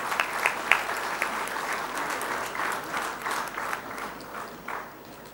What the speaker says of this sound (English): let's have another round of applause for our wonderful sponsors